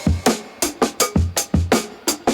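A sampled drum break loops briefly, punchy kick and snare hits in a tight, steady groove, loud and upfront.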